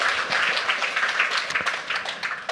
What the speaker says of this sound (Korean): 내가 비즈니스 오너다 싶은 분들은 박수 한번 주세요